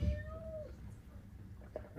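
A person imitates a cat, giving one drawn-out, clear meow with a falling pitch, loud and close, followed by a short pause and faint room noise.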